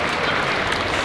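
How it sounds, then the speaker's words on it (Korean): A brief, dense burst of audience applause for a fighter's coach at a combat sports event, loud and steady for about a second. "이 자리까지 오게 해주신 관장님 박수 한번 부탁드리겠습니다"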